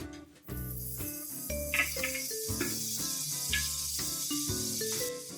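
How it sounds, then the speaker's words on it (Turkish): Three tablespoons of butter sizzling in a pan with toasted almonds, a steady bright hiss running throughout under faint clinks of the pan. "Şimdi bunun içerisine 3 yemek kaşığı kadar tereyağımı atıyorum."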